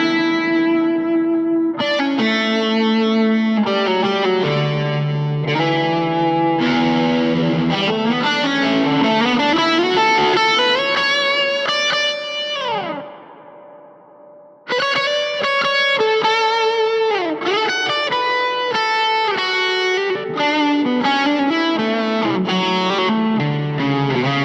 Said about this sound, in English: That's a lovely reverb.